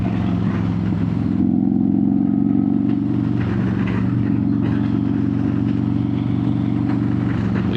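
A Harley-Davidson motorcycle engine cruises in third gear, a loud, steady low throbbing drone that holds an even pitch throughout with no talking.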